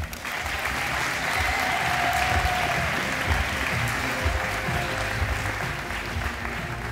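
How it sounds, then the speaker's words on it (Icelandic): An audience at a sports awards ceremony applauds an athlete, sustained even clapping from a sizable crowd holding steady for several seconds before easing slightly toward the end. "Gefum honum gott klapp."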